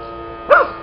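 A young child imitates a fire engine siren with a short, rising-and-falling vocal wail, close and fairly loud against a quiet background.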